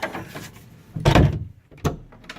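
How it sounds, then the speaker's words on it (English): A side closet door aboard a 65-foot Hatteras yacht closes with a solid thunk, followed by a second lighter knock, both close and clear in a quiet cabin. "The side closet door."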